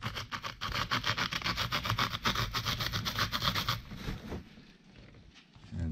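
Wild lupine seeds are scratched for scarification in a rapid series of rough rubbing strokes, close and loud, then a pause with faint handling noises.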